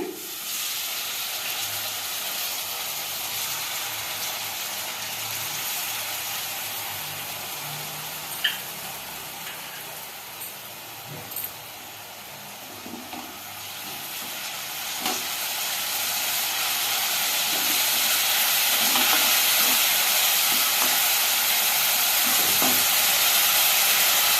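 Tamarind water simmering on a gas stove beside sizzling tempering, a steady steamy hiss and bubbling that swells louder toward the end, with a few faint clinks and no talk.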